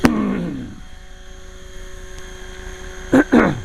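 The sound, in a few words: 450-size RC helicopter flying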